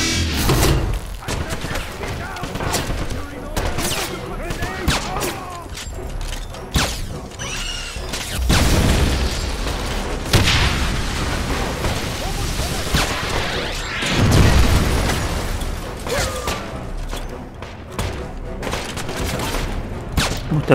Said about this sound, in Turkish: Ne çok seviyorsunuz bomba atmayı.